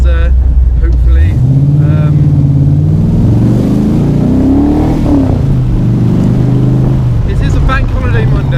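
An AC Cobra sports car on the road to Goodwood, its engine note rising and falling through revs in steady, loud, close-up cabin drone, with a voice talking over it much of the time.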